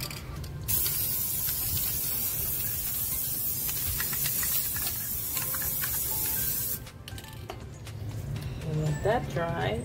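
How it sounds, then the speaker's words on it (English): Aerosol spray paint hisses onto Dollar Tree candleholders, coating them black in a long continuous burst that stops abruptly, followed by quieter handling sounds and a few short spray bursts. "we're gonna give them the first coat of paint"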